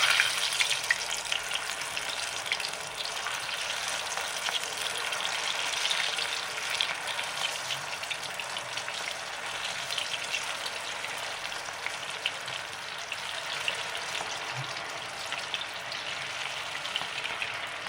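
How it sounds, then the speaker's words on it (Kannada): Cauliflower pieces for dry gobi 65 deep-frying in hot oil on a low flame, a steady dense sizzle and crackle with fine bubbling pops that runs unbroken and fairly loud throughout, with no talking. "ನೋಡಿ ಬಾಣಲೆ ಎಣ್ಣೆ ಇಟ್ಕೊಂಡಿದ್ದೀನಿ, ಎಣ್ಣೆ ಕಾದಿದೆ, ಉರಿ ಕಮ್ಮಿ ಮಾಡ್ಕೊತಾ ಇದ್ದೀನಿ. ಈಗ ಹಿಂಗೆ ಒಂದೊಂದೇ ಹಾಕ್ಕೊಬೇಕು."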